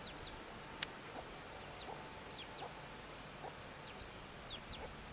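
Chickens cluck and chirp in short, scattered calls over a steady outdoor background hiss at a campsite on the Isle of Man, faint and moderately distant, with no voices.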